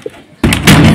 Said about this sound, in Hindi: अभी यहाँ पर रह चुका है एक दरवाज़ा बंद करने को